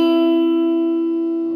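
Electric guitar from a song: a single sustained, ringing clean-toned note that slowly decays, played alone and close.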